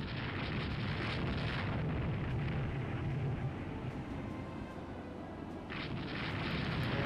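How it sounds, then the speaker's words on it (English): Long-range naval shell fire in the Rule The Waves 2 warship game, a continuous heavy rumble of distant gun booms that swells and dips without sharp breaks. "Triol's still trying to fire long-range shells at us."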